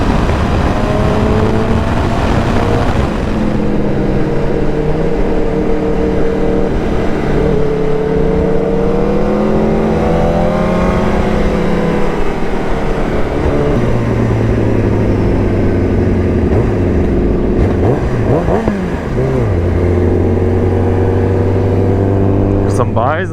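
A Kawasaki ZX10R motorcycle engine revs and pulls through rising and falling pitch sweeps, loud and close throughout, with the tone climbing through gears and dropping back.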